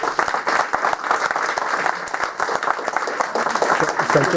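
Loud, dense applause from an audience at an International Mother Language Day 2014 gathering, with sharp individual claps rising steadily through the sustained roar.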